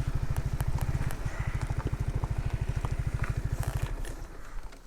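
Yamaha XSR125 four-stroke motorcycle engine idling with a steady, rapid low thumping pulse, close and fairly loud, easing off near the end.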